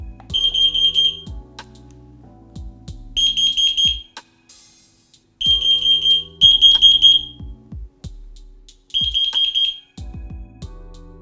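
FireAngel Pro wireless smoke alarm sounding its test signal: loud, piercing high-pitched beep bursts in repeated groups separated by short pauses, with some low thumps mixed in.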